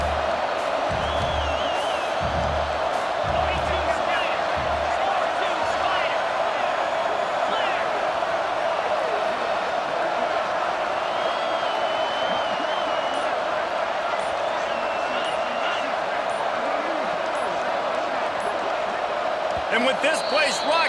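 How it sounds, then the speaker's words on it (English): A loud stadium crowd in the College Football 26 video game, a constant roaring wash of fans that swells near the end, with low thumps early on and a commentator's voice over it. "with this place rocking, the crowd forces a false start"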